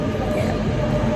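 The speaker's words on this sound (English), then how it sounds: "So we just arrived at the train station of Breda." Steady train station ambience at Breda station, with a continuous low rumble of a train and rail noise filling the space, loud and unbroken, without clear voices.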